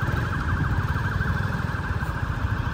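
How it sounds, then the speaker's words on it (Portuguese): An ambulance siren wails steadily and loudly throughout, close by, heard from a street during a morning motorcycle outing, with no talk over it. "Ó, ambulância."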